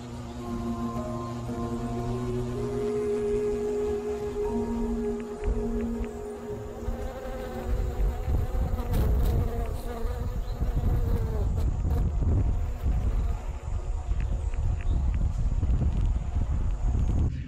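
Asian hornet hovering in place in front of beehives, a steady close insect buzz with a whining drone that continues throughout, rising a little in intensity partway through, with no talking.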